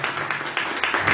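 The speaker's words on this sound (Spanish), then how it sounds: "Vamos a dar un aplauso que no viene mal." Audience clapping during a church sermon, a short burst of steady, fairly loud applause with evenly spaced claps and no voices over it.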